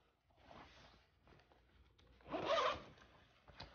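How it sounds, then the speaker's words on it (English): A zipper on a size 58 Versace jacket with a yellow, red and white back design is pulled in one quick, close stroke, preceded by softer fabric rustling. "Definitely a high quality zip."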